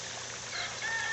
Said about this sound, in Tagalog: Mga ibon.